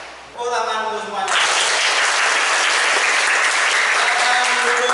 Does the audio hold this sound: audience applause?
yes